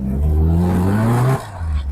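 A first-generation Mazda RX-7 rotary engine, fitted with an RX-8 six-speed transmission, revs hard and holds against the rev limiter in cold weather, a loud steady buzzing drone that cuts off abruptly, then settles to a lower idle.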